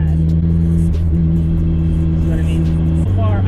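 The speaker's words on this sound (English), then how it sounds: "It had an exhaust leak, wicked bad. The thing runs like crap." A Mazda Miata engine runs rough with a badly leaking exhaust, a loud, steady, low rumbling drone that holds close and even, then drops in pitch near the end.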